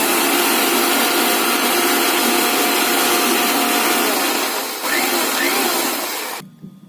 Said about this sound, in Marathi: आणखीन एकदा मिक्सरला लावायची